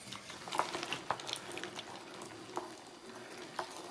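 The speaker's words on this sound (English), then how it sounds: "Stir this up" Stewed red beans with dried thyme being stirred in a pot, soft wet scraping and intermittent clinks of a spoon against the pot, close and fairly quiet, no speech.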